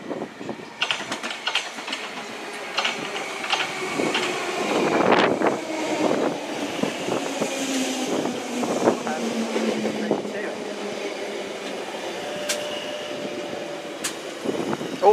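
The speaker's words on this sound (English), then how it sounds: "Coming through is the Virgin Pendolino to Manchester Piccadilly via Stoke-on-Trent" A Virgin Pendolino train passes through South Kenton toward Manchester Piccadilly via Stoke-on-Trent, a rolling rumble with squealing, rattling wheel-and-rail noise and falling motor whine, while people talk nearby.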